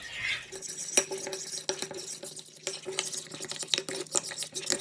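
A spoon stirs a chicken marinade of lime juice, olive oil and garam masala in a bowl, with repeated close, quiet scrapes and small clinks of utensil against dish.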